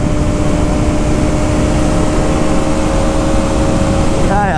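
Bajaj Pulsar 200NS 2024 motorcycle engine held on steady throttle while cornering, a loud continuous drone with constant tones, heavy wind rush over it and no pauses.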